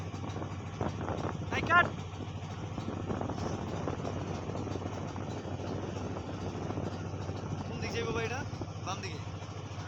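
Large ships pass on open water, a steady low engine drone that holds throughout, with voices talking over it.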